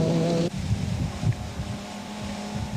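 Class S20 Toyota rally car running over rough gravel at Tour Natal 2002, a loud engine note that cuts abruptly, then rumbling tyre and stone noise with wind buffeting.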